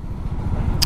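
An HD Supply truck passes on the road, heard as a steady low vehicle rumble with a brief bright hiss near the end.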